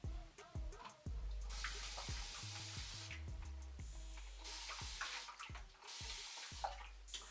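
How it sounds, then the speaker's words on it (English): A spray bottle mists water onto 4c hair in a series of short, hissing bursts separated by brief pauses and sharp clicks of the trigger, close and fairly loud. "as I spray the water, like try to squeeze it in"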